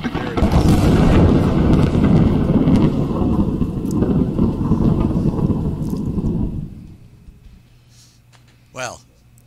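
A lightning bolt sound effect played during a podcast game, a loud crackling, rumbling thunder roar that holds for several seconds, then fades to quiet before a brief chirping sound.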